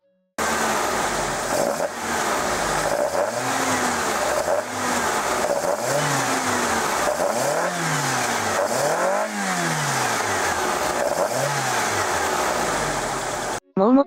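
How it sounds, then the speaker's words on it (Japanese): Carbureted car engine revved repeatedly, rising and falling in a series of roughly eight surging blips at close range, loud and rough with a mechanical rasp, ending abruptly. "これがキャブの音。"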